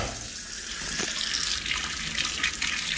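A kitchen faucet runs steadily into a sink in a home, a constant close hiss and splash of water with slight fluctuations, no voices present.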